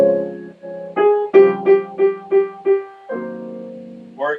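Jazz piano plays a standard with a reharmonised left-hand voicing, full chords sounding under repeated melody notes in an even pulse, close, clear and unaccompanied by any voice.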